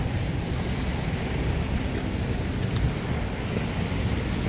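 Steady wash of rising water and surf in Manila Bay, continuous and loud, with wind buffeting the microphone throughout.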